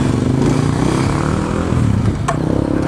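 A motorcycle engine runs close and loud with a steady, rough, pulsing drone that holds at an even pitch throughout, after the rider's crash.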